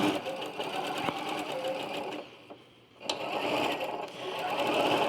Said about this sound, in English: So you're going to just sort of gently guide it, make sure you're not pulling on one more than the other, and stitch along.